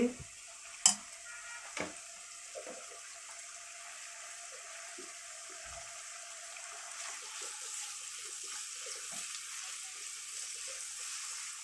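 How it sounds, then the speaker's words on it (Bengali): Vegetables for khichuri fry lightly in a pan, with a couple of sharp utensil clinks at first and then a soft, steady sizzle with occasional stirring sounds, close and quiet. "সবজিগুলোকে আমি হালকা ফ্রাই করে"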